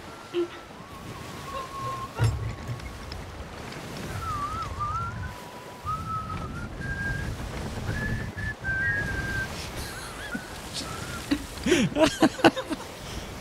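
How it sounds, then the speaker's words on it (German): Several people whistle a wandering, off-key tune together on a sailing ship in Sea of Thieves, the shaky melody drifting up and down over steady rushing waves and creaking water noise, with occasional thumps and louder clatter toward the end. "wir pfeifen einfach alle ganz schief"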